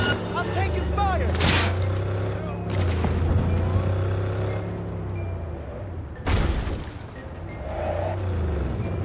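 Gunfire and booming blasts in a Cyberpunk 2077 firefight, a few sharp, loud bursts spaced through the scene over a steady rumbling background, with game voices heard at times.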